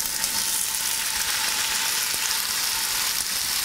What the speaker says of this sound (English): Let's get that oil heated up, nice and hot. And then just add your spätzle in.